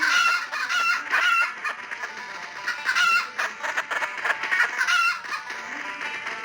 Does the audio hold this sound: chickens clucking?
yes